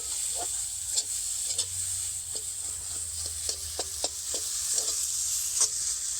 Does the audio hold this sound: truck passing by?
no